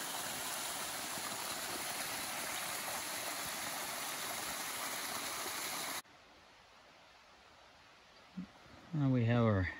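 Creek water rushes steadily at the top of a micro hydro penstock intake, a dense, even hiss that cuts off abruptly to a quiet background, followed by a brief knock and a voice speaking near the end.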